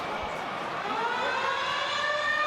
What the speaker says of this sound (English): The siren about to sound.